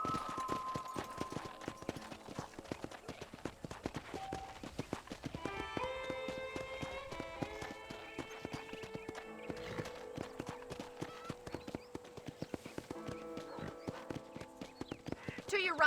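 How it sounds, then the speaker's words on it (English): A horse gallops steadily through a ranch in Red Dead Redemption, its rhythmic hoofbeats continuous and close for the whole stretch, with music and occasional talk layered over it. "I picked out a fine horse for you"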